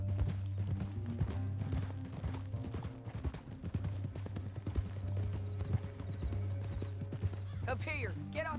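Horse hooves clip-clop steadily in Red Dead Redemption 2, a continuous close rhythm under game music and a low drone, with a horse whinny near the end and voices talking.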